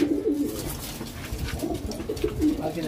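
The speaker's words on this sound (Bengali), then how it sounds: "এখানে যে কবুতরগুলো আছে ম্যাক্সিমাম কবুতরগুলো সব সিঙ্গেল কবুতর" Racing pigeons kept in a loft coo repeatedly in a steady, overlapping chorus at close range, with a low murmur of background noise and no talking.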